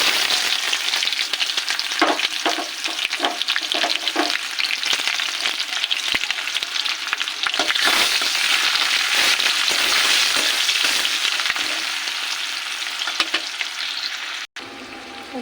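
Chopped onion hits hot oil already seasoned with dried red chilli and nigella seeds, producing a loud, crackling sizzle with spatula stirring scrapes that ends in an abrupt cut near the close.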